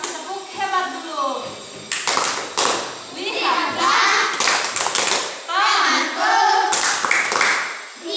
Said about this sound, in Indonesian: karena sudah berani, kita kasih tepuk hebat dulu.